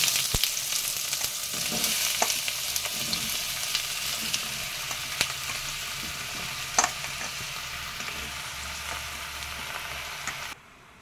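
Cut bottle gourd fries in a pan with hot cumin tempering, a steady close sizzle broken by scraping stirs and light knocks of the spatula, ending abruptly.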